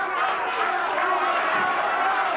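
A wrestling arena crowd reacts with a dense, continuous roar of voices and cheering that holds fairly steady throughout.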